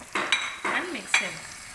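Jackfruit pieces with turmeric, cumin and coriander powder fry in a pan, with three short scraping stirs of a spoon over a soft sizzle.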